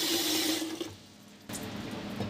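Water poured into the inner pot of a Baumann rice cooker, a close, rushing splash that eases off partway through, then starts again for the last second.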